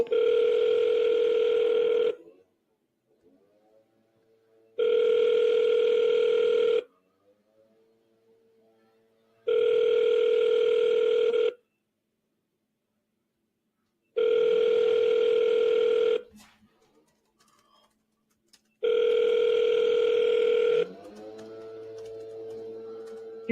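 Five long telephone ring tones sound with even pauses between them, clear and steady, before the call is forwarded to voicemail; faint background noises fill the gaps.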